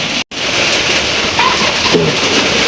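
Heavy rain pouring down on a house, a dense, loud, continuous hiss with a brief cut near the start and a few faint background sounds under the downpour.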